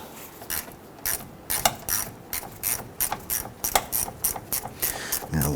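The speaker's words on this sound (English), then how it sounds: "We're going to use our 10mm socket on a 1/4" ratchet." A 1/4-inch ratchet with a 10mm socket loosens a rust-sprayed battery clamp nut on a Toyota Tundra, giving quick bursts of close, rhythmic clicking in short strokes with brief pauses.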